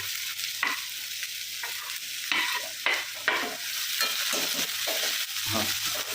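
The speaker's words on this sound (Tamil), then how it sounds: "பூண்டு வெங்காயம் தக்காளி வெங்காயம் நல்லா வதங்கினதோட கொஞ்சம் நேரம் தக்காளி போட்டுக்கலாங்க" Garlic, onion and tomato sauté in a hot pan, a steady close sizzle broken by repeated scraping strokes of a spoon stirring through the mix, with no talking.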